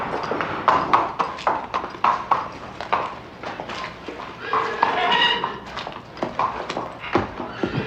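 Horse hooves clip-clop in a steady, even rhythm close by, mingled with voices speaking over the footsteps.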